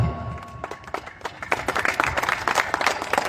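At a kabaddi final prize distribution, an audience applauds the player Mohammad Faiz, with scattered claps at first swelling into a fuller burst of clapping from a nearby crowd.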